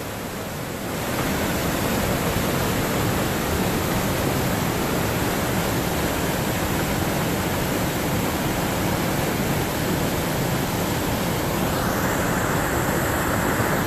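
A loud, unbroken roar of rushing water from a waterfall in Waterfall Glen canyon during a flash flood, heard close up behind the falls and holding a dense, constant wash throughout.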